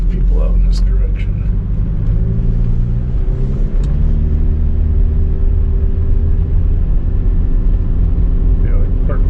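A 2004 Volkswagen Passat TDI diesel with a new turbo pulls under load, a steady loud low engine drone and rumble heard from inside the car, with a voice talking over it.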